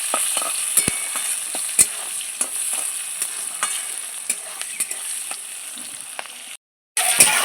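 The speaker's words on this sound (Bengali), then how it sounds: "কুচিয়ে রাখা পেঁয়াজ পেঁয়াজটা একটু লাল করে ভেজে নেবো" Chopped onions fry in oil in a pan, a steady close sizzle with occasional stirring clicks and scrapes, briefly cutting out near the end.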